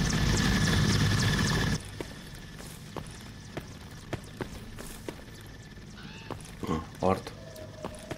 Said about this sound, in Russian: Улетел вертолет.